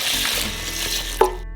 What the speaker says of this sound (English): Pour in 2 liters of water.